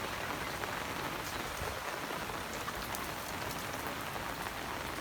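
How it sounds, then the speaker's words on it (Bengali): Heavy rain pours steadily onto a rooftop garden, a dense, unbroken hiss of drops striking leaves and surfaces at an even loudness throughout, with no voices. "প্রচণ্ড বৃষ্টি হচ্ছে"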